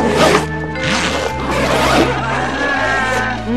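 Zipper on a school backpack being pulled open or shut in a classroom, a loud rasping zip running through most of the moment amid busy background noise.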